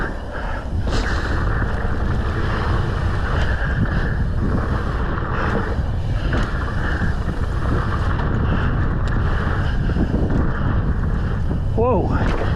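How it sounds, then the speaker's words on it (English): Gusty wind buffets the microphone throughout during a freeride ski run at Park City, a loud steady rumble that swells and pushes in gusts. "Whoa, that wind,"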